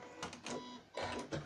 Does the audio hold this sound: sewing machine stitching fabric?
yes